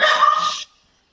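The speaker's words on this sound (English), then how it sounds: "That's my dog barking in the background." A single dog bark, sharp and fairly loud, cutting off cleanly into silence, heard in the background of a remote conversation.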